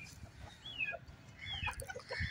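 Chickens cluck and chirp softly in short, irregular calls over faint background noise.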